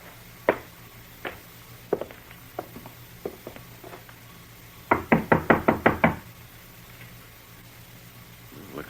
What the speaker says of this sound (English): well, let's try knocking